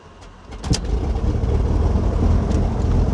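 The left engine of a Beechcraft G58 aircraft cranks and catches, rising from a few sputtering coughs into a steady, smooth close-up engine run that settles without over-revving.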